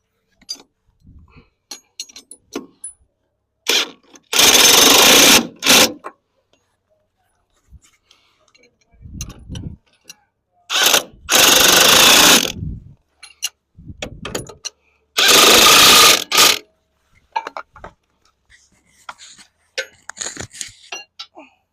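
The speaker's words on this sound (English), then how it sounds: "there's generally enough room to use an electric impact" An electric impact wrench fires three times, each a loud, dense burst of about one to two seconds, close by. Quieter clinks and handling noises fall between the bursts.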